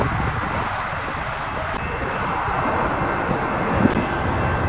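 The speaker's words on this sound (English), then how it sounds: "And this is an A320," Airbus A320 airliner on landing approach at San Diego airport, a steady broadband jet engine roar that swells slightly toward the end, heard outdoors at moderate distance with no voices.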